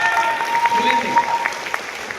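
Brief applause from a seated audience in a hall during a motivational lifestyle talk, short patchy clapping with some voices and tonal background over it.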